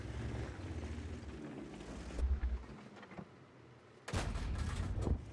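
Tank gun fire in World of Tanks: a sharp, loud blast near the end of the clip, with a smaller boom earlier, over low rumbling engine and wind-like ambience.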